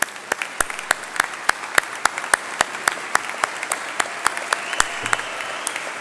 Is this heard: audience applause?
yes